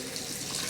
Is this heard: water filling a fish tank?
yes